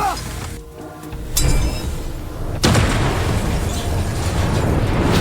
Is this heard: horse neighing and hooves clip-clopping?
no